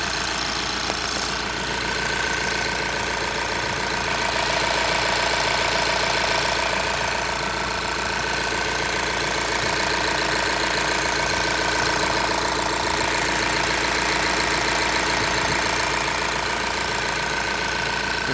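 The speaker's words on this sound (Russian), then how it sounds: "Двигатель работает хорошо." A 2015 Volkswagen T6 van engine idling steadily, close and loud, a constant even rumble with faint knocking texture lasting throughout without voices.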